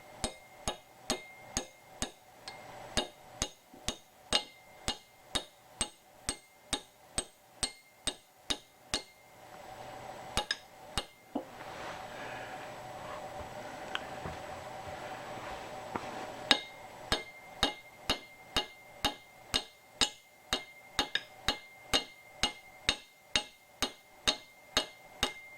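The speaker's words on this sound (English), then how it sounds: "And a little hammer." A small hammer taps dowel pins into an experimental armature build: a long run of crisp, evenly spaced taps, close and fairly loud, broken by a few seconds of hissing noise midway before the steady tapping resumes.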